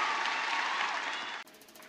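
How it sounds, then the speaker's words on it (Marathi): Audience applause for a respected teacher at a felicitation event, sustained broadband clapping from a crowd that cuts off abruptly near the end, leaving a quieter room. "एकदा जोरदार टाळ्या झाल्या पाहिजे आपल्या सरांसाठी"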